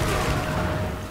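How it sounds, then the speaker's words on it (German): A dense burst of booming explosions in Resident Evil 5 HD, loud and rumbling, overlapping in a rough continuous blast with no talking. "Ein bisschen viele Explosionen."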